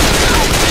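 Dense, loud gunfire rattles in Left 4 Dead 2, a short burst of overlapping shots packed together with no gaps.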